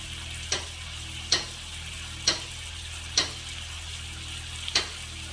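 T-bone steaks fry in a pan with a steady, even sizzle and crackle, and sharp clicks or taps land at roughly regular intervals over the sizzle.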